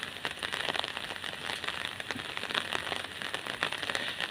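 Steady rain from a storm pattering on a surface, with dense scattered drops and occasional sharper taps, continuous and moderately close.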